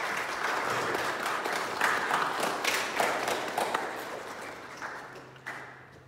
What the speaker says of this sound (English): Let's give them a round of applause for our graduates.